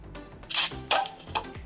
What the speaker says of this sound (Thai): ก็คือเสียงเปิดขวดนั่นเองนะ